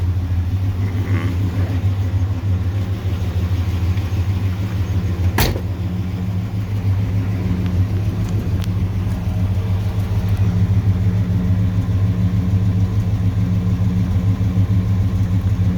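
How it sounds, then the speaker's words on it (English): A 1964 Mercury Marauder's FE 390 V8 idles through Tri-Y headers and Dynomax Ultraflo mufflers, a loud, steady low rumble that holds continuously with no pauses or revving and one brief sharp click partway through. "So these are Dynomax Ultraflo mufflers, and they're pretty quiet"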